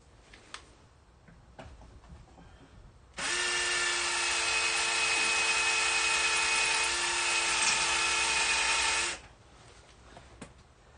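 A power drill whirs loudly for about six seconds in one steady burst during track pin removal on an Argo vehicle, starting and stopping abruptly, with faint clicks and handling noise before and after.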